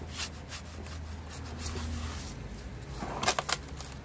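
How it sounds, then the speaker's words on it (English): A cloth rubs back and forth over a degreased brake drum surface, a soft continuous scrubbing that grows into brisker strokes near the end. "right now, just wiping it down."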